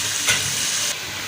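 Water with moringa boils in a pot with a loud, steady steamy hiss and a brief louder surge, with no talk.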